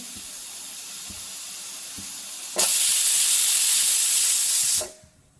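A home pressure cooker on the stove lets out a sharp, loud blast of steam hiss after its whistle, preceded by soft clicks and faint rattling, then cutting off abruptly into quiet.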